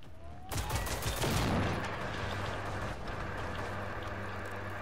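A hostile robot firing in the open-world shooter game Generation Zero, a sudden loud burst of rapid gunfire that decays into a lingering noisy rumble.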